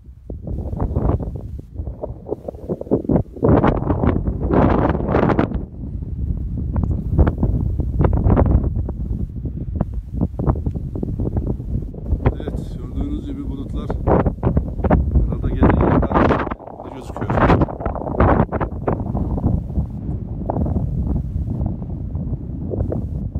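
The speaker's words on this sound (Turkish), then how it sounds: "Şu an akşam üzeri felaket bir rüzgar var." Strong, gusty evening wind roars and buffets the microphone continuously on a snowy highland plateau near Of, Turkey, a broad rushing noise with rustling bursts throughout.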